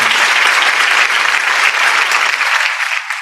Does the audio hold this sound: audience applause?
yes